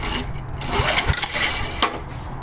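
Honda lawn mower engine, previously seized, running close by with a rough, uneven mechanical chug and a few sharper knocks, moderately loud, with no talk.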